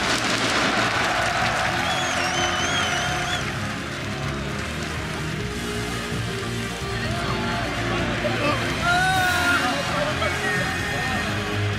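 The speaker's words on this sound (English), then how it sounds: "the crowd's giving a standing ovation after that one" A crowd at an esports world championship final gives a standing ovation after the deciding game, with broad sustained cheering and applause heard under loud commentator talk.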